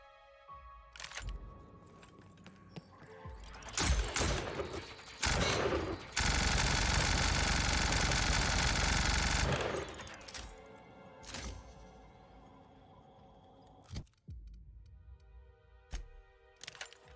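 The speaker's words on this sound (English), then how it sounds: "this minigun is both inspired and powered by Rizzo's Spectrum Vodka" Minigun firing in the video game The Outer Worlds: scattered sharp shots and mechanical clicks, then a loud continuous stream of rapid fire for about three seconds, followed by more isolated bursts and clicks.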